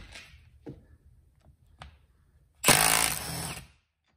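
A Milwaukee M12 3/8-inch impact wrench set to 120 foot-pounds fires one loud, close burst of rapid hammering lasting about a second, after a few faint knocks.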